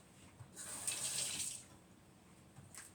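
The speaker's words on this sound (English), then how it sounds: "Let me rinse my hands off." Running tap water splashes over hands rinsing at a kitchen sink during baking, a steady hiss lasting about a second before cutting off, with a brief second burst near the end.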